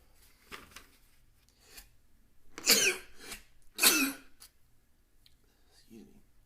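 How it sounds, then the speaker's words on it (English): A man sneezes twice indoors, two sharp, loud bursts about a second apart, with quieter breathy sounds before and a soft vocal noise after. "I feel like I'm gonna sneeze"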